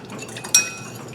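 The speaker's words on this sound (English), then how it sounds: "Now, I'm going to mix this sauce up with my spoon." A spoon mixing a nitamago ramen-egg sauce in a bowl gives one sharp clink partway through; otherwise only a quiet room hush.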